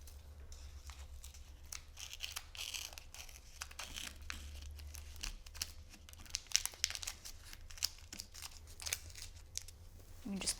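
Cut craft vinyl is peeled and weeded from its backing sheet, making a steady run of faint, close crinkling and small tearing crackles with occasional sharper snaps.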